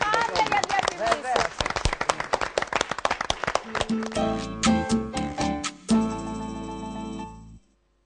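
A studio audience on a 2007 Greek television show claps together in dense, loud applause that thins into scattered claps while music starts underneath and then cuts off.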